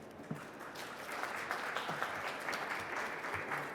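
An audience claps steadily as speakers are welcomed onto the stage for an art-world panel, with the applause rising after a moment and sustaining evenly, full and close, with no talking over it.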